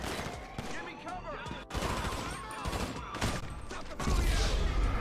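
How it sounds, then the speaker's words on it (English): GTA V gunfire crackles in rapid volleys, close and loud, bursts overlapping in a dense fusillade that rises again toward the end, with voices speaking over the shooting. "Who's shooting at me?"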